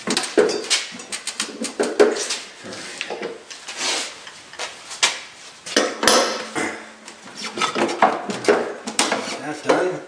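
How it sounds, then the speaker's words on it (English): A crescent wrench tightens a bolt during a broken auger repair on an MTD snow thrower, giving irregular metallic clinks, taps and scraping clatter in short bursts with quiet pauses between them. "we'll break out the old crescent wrench here"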